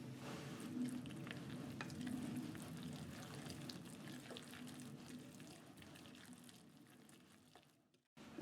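Matzo meal being mixed into a gefilte fish mixture, a soft, steady stirring and squelching near at hand that fades toward the end, with no talking.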